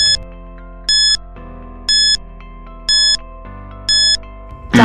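A quiz countdown timer beeps in a regular one-per-second rhythm, each short, bright tone pulsing clearly over a sustained musical drone.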